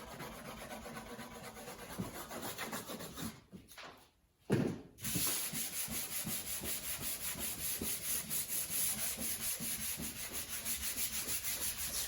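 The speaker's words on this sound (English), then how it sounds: "Scribble, scratch, rub, draw, write" Drawing tools scribbling, scratching and rubbing across paper, a steady close rasping stroke pattern that breaks off briefly midway, then resumes with rhythmic back-and-forth rubbing.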